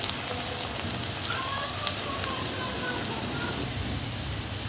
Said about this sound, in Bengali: এখানে আমি পেঁয়াজটা ভেজে নিব ভালো করে